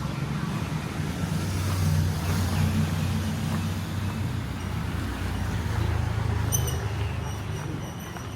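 A small motorbike used as a taxi passes through street traffic in a Thai city at night, its engine a steady low drone rising and falling near the listener among other vehicles.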